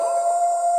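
A steady tonal wolf-style howl opens The Howl segment of an MPL PH Season 16 esports broadcast, one brief sustained note, loud and clean with no talk.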